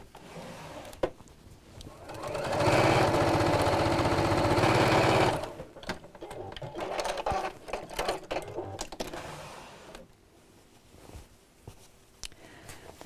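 A sewing machine stitches a straight seam across a fabric bag lining, running in a loud steady burst of about three seconds, followed by shorter, quieter bursts of stitching and handling clatter.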